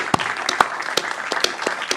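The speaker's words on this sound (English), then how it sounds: "I would like to ask for an applause for all of them" An audience claps at a European Pavilion 2024 reveal event, with sharp individual hand claps standing out over a moderate, steady patter of applause, no voices present.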